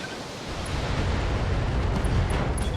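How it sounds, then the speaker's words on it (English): An ammo explosion in the BattleTech video game bursts into a sustained, heavy, rumbling roar that swells and holds at steady loudness for several seconds, with no talking over it. "Ammo explosion."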